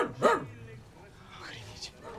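A dog barks once loudly up close, followed by softer yips and whimpering sounds, in a Russian comedy film scene.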